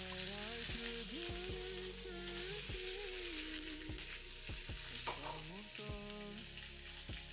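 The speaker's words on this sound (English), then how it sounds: "You will need to let the oil heat. Then you add the pork cubes." Cubes of pork fry in hot oil with a continuous, fairly soft sizzle, overlaid by repeated dull knocks and scrapes of a utensil moving the meat around the pan.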